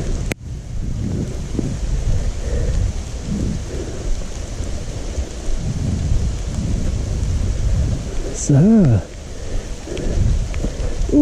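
Heavy rain pours down outdoors on a hillside near old abandoned mines by Bratislava, a steady dense hiss filling the whole stretch, with a single brief spoken word.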